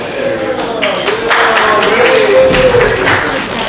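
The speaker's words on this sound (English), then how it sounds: "Big applause from Coach Friesen." Crowd applause for a coach at a high school fall sports show, a loud continuous patter of clapping from a large audience in a gym, with cheering and a few shouted voices rising within it.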